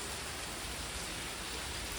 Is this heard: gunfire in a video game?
no